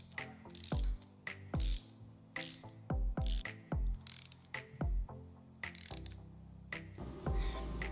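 Screws driven back into a 2016 15HP Suzuki outboard high-pressure fuel pump with a ratcheting tool, close sharp clicking bursts in irregular quick runs, separated by short pauses.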